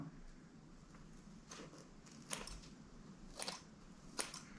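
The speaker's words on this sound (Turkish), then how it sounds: "Bu aşamada makasımı kullanacağım." Scissors snip through soft craft sponge in a few quiet, crisp cuts spaced across a faint room background, with no speech.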